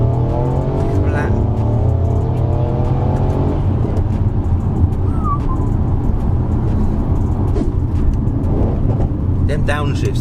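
A Mercedes C63 AMG accelerates hard with a loud, rising engine note and gear changes, followed by a dense rumbling downshift section, with a person talking over it.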